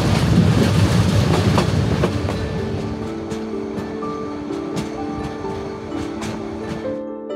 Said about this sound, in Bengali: আমাদের ট্রেন কক্সবাজার এক্সপ্রেস সেই কুয়াশা ভেদ করে চলছে তার আপন গতিতে